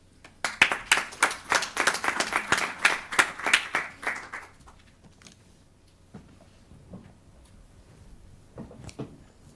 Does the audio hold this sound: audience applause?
yes